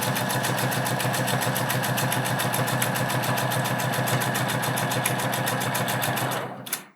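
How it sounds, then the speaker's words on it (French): Sewing machine running a steady, fast, even stitch along an assembly seam 1 cm from the edge, loud and close, stopping abruptly at the end. "je vais coudre donc à 1 cm jusqu'au bout"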